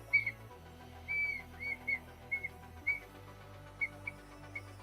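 Hot glass being blown into a Christmas ornament gives off faint high whistling chirps, about a dozen short tones repeating irregularly over a low background hum.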